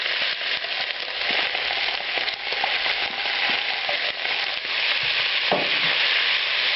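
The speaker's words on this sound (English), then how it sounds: "once the onions are coated, now you can add this tomato puree" Tomato puree sizzles and fries with onions in a pan while a Spanish-style sofrito cooks, a steady, close hiss of frying with light stirring scrapes throughout, and no voice over it.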